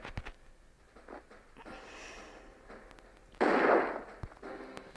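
A bomb explodes in the video game Swordigo, a sudden loud burst standing out from quieter game sounds around it and fading over about a second.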